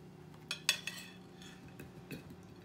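Brussels sprouts get stirred in a pan with a utensil, producing a few sharp metallic clinks and scrapes against the pan over a quiet background.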